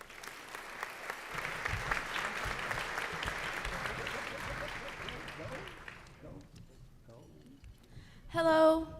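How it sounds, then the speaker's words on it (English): Audience applause at an all-stars luncheon rolls steadily for about six seconds, then thins and dies away into quiet, and a close voice starts talking near the end. "Give them a round of applause."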